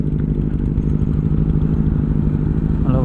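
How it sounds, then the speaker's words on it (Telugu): Harley-Davidson motorcycle engine running steadily and loudly up close, a deep continuous rumble with a faint rise near the end, no talking. "ఈ బైక్ ఏంటంటే హార్లీ డేవిడ్సన్. నిజంగా ఇది హార్లీ డేవిడ్సన్."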